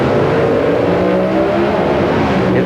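NHRA drag racing cars at the 1992 Mile High Nationals in Morrison, Colorado, their warmed-up engines roaring loudly and steadily with droning, revving tones throughout.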